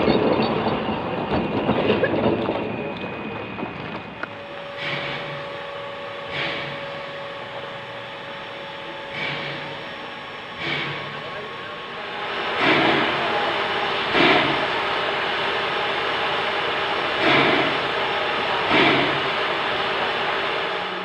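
Puffing Billy steam locomotive 6A hauling the Anzac Train at a dawn service: rhythmic clicking and clattering of train wheels over rail joints, repeating every second or two at moderate distance, with a steady hum underneath.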